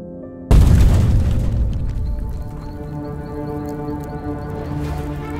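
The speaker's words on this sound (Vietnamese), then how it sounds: "hầm bị nổ sụp đột ngột" A cartoon tunnel explodes and collapses with one sudden deep boom, followed by a long rumbling roar and ringing tones that slowly fade under a musical score.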